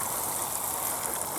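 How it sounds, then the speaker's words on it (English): Water pouring from a watering can onto plants on an allotment, a steady close hiss and splash that runs unbroken and fairly loud for the whole moment. "just watering it all in now"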